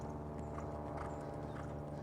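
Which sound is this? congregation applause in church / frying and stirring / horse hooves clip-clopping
horse hooves clip-clopping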